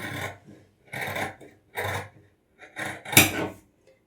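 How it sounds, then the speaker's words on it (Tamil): Scissors cut through four layers of blouse cloth around the armhole in four separate snipping passes, each a close, raspy slice with short pauses between. "நான் அப்படியே கட் பண்ணி எடுத்துவிட போகிறேன்"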